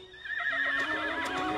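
A horse whinnies loudly and close, a long wavering neigh that dominates the short moment with no talk over it, set in a biblical-era story scene.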